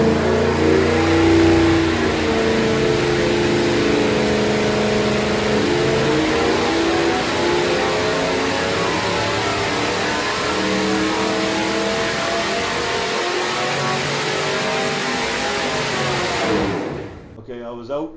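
A 383 small-block Chevy engine runs hard on a dyno in a test cell, a loud sustained roar with rising harmonics as revs climb and hold for many seconds, then cutting off abruptly at the end.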